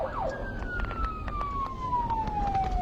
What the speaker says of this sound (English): With red lights and siren blaring, Murphy prods his patrol vehicle towards the scene